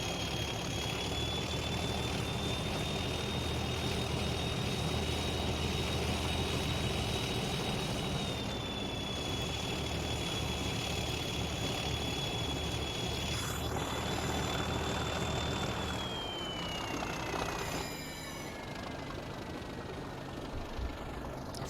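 Steam locomotive working hard under heavy power on the Bodmin and Wenford Railway in Train Simulator 2021, a steady loud rumbling engine drone with a high whistle-like tone running alongside, continuous throughout.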